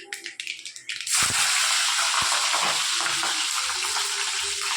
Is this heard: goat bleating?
no